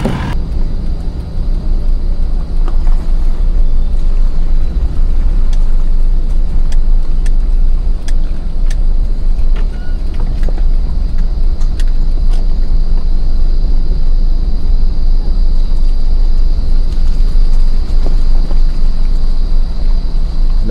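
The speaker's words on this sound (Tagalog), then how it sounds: "Relax driving lang guys. Chill driving." From inside a moving minivan, steady engine drone and road rumble go on loud and unbroken, with occasional small rattles and clicks.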